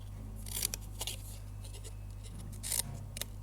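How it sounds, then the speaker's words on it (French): Scissors snip a small notch into paper card during a Stampin' Up card-making craft, giving a few short, crisp cuts close by over a steady low hum, with no talking. "je viens avec mes ciseaux"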